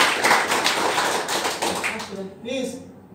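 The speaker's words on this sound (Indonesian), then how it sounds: "tepuk tangan dulu, keren banget" Scattered applause from a group at a hospital accreditation review session, a dense burst of handclaps for about two seconds that fades as a voice begins talking.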